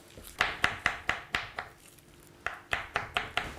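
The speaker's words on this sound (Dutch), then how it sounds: "in kleine blokjes snijden" A knife cuts brandied apricots into small cubes on a board, giving crisp, rhythmic chops in two quick runs separated by a short pause, close and clear, without talk.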